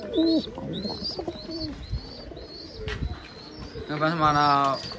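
Pigeons cooing in a rooftop loft, with repeated soft coos and chirps from several birds close by, alongside someone talking.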